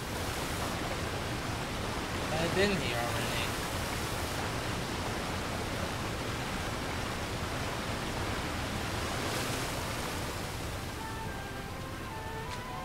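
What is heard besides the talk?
waterfall rushing in a video game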